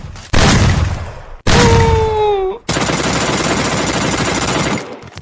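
Bursts of M10 submachine gun fire in a video game, two short loud volleys followed by a longer sustained stream of rapid shots, with a rising whine layered over the second burst.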